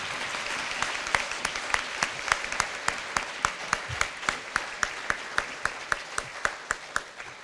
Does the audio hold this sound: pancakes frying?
no